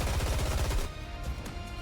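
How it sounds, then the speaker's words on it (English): Rapid bursts of gunfire from the mobile shooter game NIKKE, a fast stuttering volley that cuts off abruptly, followed by fainter scattered shots and game effects. "Gunfire, unmistakably, Snow White's erupts from behind."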